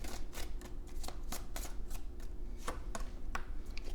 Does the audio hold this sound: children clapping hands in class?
no